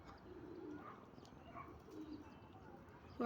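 Soft, low pigeon coos repeat a few times at a distance, faint against quiet outdoor background noise.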